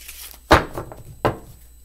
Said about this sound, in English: Let's give the cards a final shuffle.